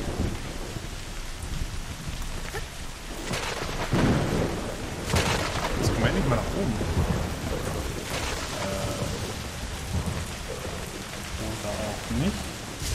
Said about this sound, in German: Schönes Gewitter noch dazu.